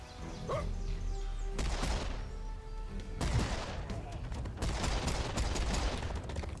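Pistol shots crack in Serious Sam amid a chaotic din of other gunfire and creature noises, several sharp bursts spread across the span, loud and close.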